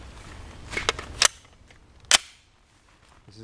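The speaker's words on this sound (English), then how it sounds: "I'm going to shoot into the dirt backstop here." Suppressed 9mm subsonic rounds fired through an Osprey 45 suppressor into a dirt backstop, about two feet from the camera: two sharp, close reports roughly a second apart, with faint mechanical clicks just before and quiet afterward.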